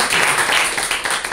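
Applause at a Bitcoin hackathon in Berlin: a small group claps in a dense wash of clapping, fairly loud, with a little voice mixed in.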